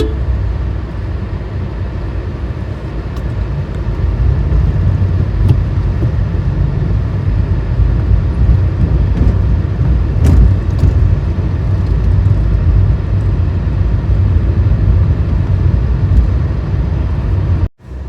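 Car interior on a drive through Nagarhole National Park in heavy rain, a steady loud broadband roar of tyres and rain that holds for most of the stretch before a sudden break near the end.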